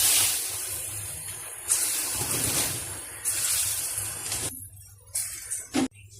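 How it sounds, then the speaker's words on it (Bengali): Small chana dal fritters (bora) fry in hot oil in a wok, with a close sizzling hiss that rises and falls as pieces drop in and then drops away in short bursts near the end. "এবার ছোট ছোট আকারে কিন্তু বড়াগুলো ভেজে নিচ্ছি।"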